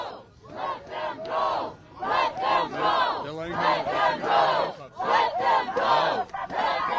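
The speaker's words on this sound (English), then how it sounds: "hearing a chant of let them go from the crowd" Protest crowd at a Minneapolis ICE demonstration chanting in unison, loud and near, in repeated rhythmic bursts.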